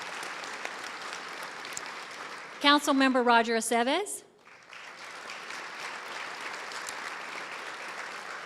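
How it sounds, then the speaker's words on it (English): Audience applause at a city State of the City event honoring council members, a steady broad patter running through the clip, briefly interrupted by a voice announcing a name over a microphone. "Let's clap."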